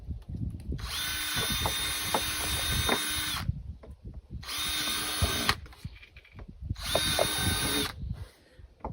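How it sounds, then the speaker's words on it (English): A power drill bores holes into the lid of a homemade worm bin. Three loud, close, high-pitched whining bursts of a few seconds each are separated by short pauses filled with handling clatter. "First, we're going to drill some holes into the lid."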